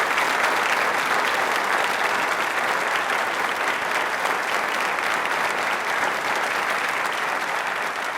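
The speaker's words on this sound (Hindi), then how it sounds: "तालियां जोरों से शोर बजा दीजिए एक बार" A studio audience at an Independence Day quiz show claps loudly and continuously, a thick, even roar of hands that holds steady from start to finish.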